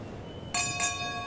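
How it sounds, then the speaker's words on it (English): A single metallic bell strikes twice in quick succession at a Pearl Harbor bombing remembrance ceremony, bright ringing tones over a quiet background. "The toll of the bell"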